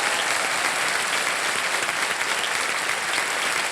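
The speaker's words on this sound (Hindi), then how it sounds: "तालियां बजती रहे।" Sustained, loud studio audience applause on the Kaun Banega Crorepati game show set, a dense even wash of clapping with no talk over it.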